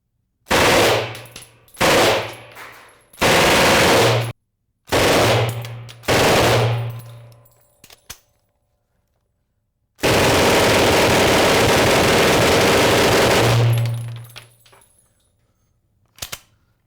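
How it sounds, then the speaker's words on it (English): Open-bolt submachine gun fires a series of loud, close short bursts separated by brief pauses, then one long sustained burst of several seconds before falling silent. "We're going to do a couple short bursts, and then we're going to cut loose and show you the unbelievable firepower this thing can put out."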